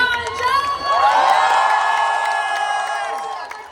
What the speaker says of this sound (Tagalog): gusto ko sanang makarinig ng isang malakas na palakpakan at sigawan dyan